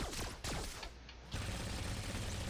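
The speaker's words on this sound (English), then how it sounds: "Sets the blasters to auto and just lets the bullets fly" Star-Lord's blasters fire on automatic in the Marvel Heroes game, a loud, rapid stream of energy shots that dips briefly midway and then resumes, with no talking.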